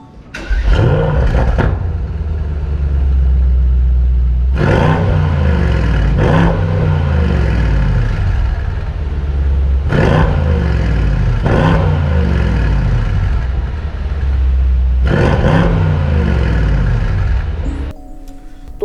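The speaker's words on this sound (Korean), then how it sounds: "스포츠 모드와 스포츠 플러스 모드로 바꾸면 가변 플랩이 열리면서 환상적인 배기음이 나옵니다" Mercedes-AMG S63 4MATIC+ L exhaust in sport mode with the flaps open, a loud close V8 roar blipped in four or five sharp revving bursts, each dropping back to a burbling idle, with no talk.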